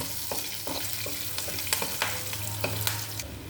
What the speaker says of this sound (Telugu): అందులో చేసుకుని అందులో తిరగమాత పోసేసుకుందాం